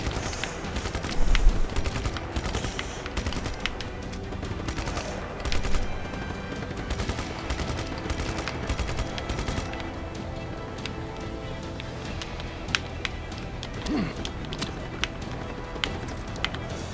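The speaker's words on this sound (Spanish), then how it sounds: "¿Quién me está disparando?" Rapid bursts of gunfire in Just Cause 3 crackle continuously, with louder volleys standing out against a dense, chaotic backdrop.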